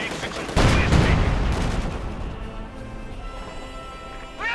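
Burst of MG42 machine-gun fire in the WWII strategy game Company of Heroes 2, a loud broadband volley of rapid gunshots that erupts and then decays under battle noise, with an IS-2 heavy tank nearby.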